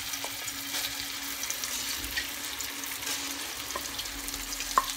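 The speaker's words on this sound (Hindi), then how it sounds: "अब मैं वो जो ब्राउन प्याज पेस्ट बनाई थी वो डालूंगी इसके अंदर।" Browned onion paste frying in oil in a pan for kofta gravy, a steady close sizzle with occasional stirring scrapes and small pops, no talking.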